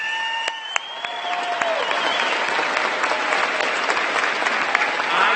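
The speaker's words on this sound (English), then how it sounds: "give them a big round of applause for all of their" Sustained audience applause at a San Jose State of the City celebration, a broad, even wash of clapping from a large crowd, with a few whistles early on.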